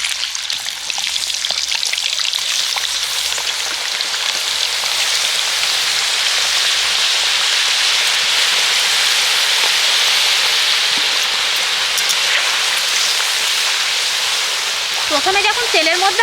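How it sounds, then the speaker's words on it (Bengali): Thin-sliced potato chips deep frying in hot oil in a home kitchen, a loud, dense, continuous sizzle and crackle that stays steady throughout, with a brief rattle of stirring near the end. "পরের ব্যাচের চিপসগুলো একই রকমভাবে ভেজে নেব।"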